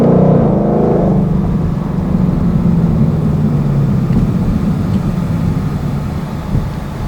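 A 2018 Ford Mustang GT automatic drives along, its engine a loud, deep, steady drone inside the cabin, with a rising rev early on, then settling into a continuous low rumble.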